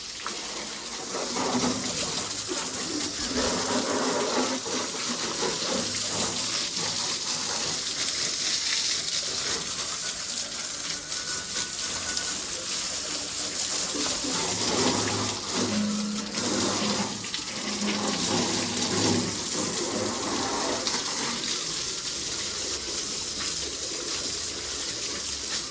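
Steady, loud spray of water hitting metal as a Mahindra 275 tractor is washed, a continuous rushing gush running unbroken throughout with fluctuating splashes and no talk.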